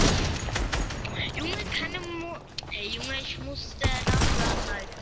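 Hand cannon shots in Fortnite ring out as a few sharp, loud bangs spaced across several seconds, with one near the start and a quick pair toward the end, while players keep talking throughout.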